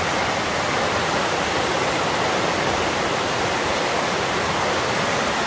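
A river flowing beside a jungle hotel in Bukit Lawang, Indonesia, giving a steady, broad rushing wash of water that stays even and unbroken, moderately loud, with no talking.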